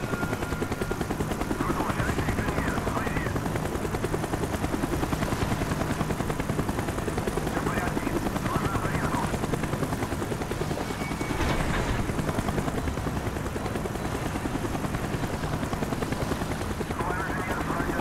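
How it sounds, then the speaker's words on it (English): Helicopter in the Call of Duty Black Ops campaign, its dense rotor roar loud and unbroken throughout, with bursts of gunfire and faint game voices mixed into the din. "Avoid the helicopter spot."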